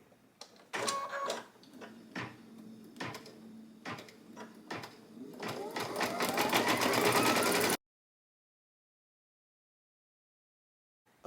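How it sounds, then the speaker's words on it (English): An embroidery sewing machine working on a Christmas stocking starts with a few separate mechanical clacks, then builds into a rapid, loud stitching clatter that cuts off abruptly, followed by silence. "I'll go press down, and we're going to start the embroidery"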